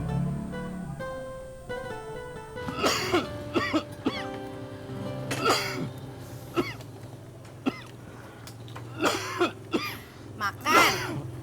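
A person coughs repeatedly in close, harsh bursts, some single and some in quick clusters, scattered across an indoor scene with a faint background hum and brief clearing of the throat.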